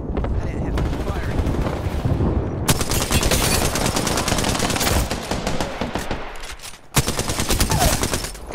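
Dense video game gunfire, rapid automatic bursts cracking nearly continuously with brief pauses around the middle and a sharp resumption near the end, loud and close throughout.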